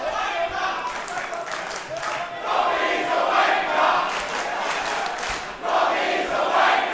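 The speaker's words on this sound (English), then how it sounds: "Just a little bit of feedback for Robbie Thorpe from the crowd in the Thornbury Theatre" A wrestling crowd in the Thornbury Theatre chants and cheers in rhythmic swells, loud and continuous from a moderate distance, with no clear talk.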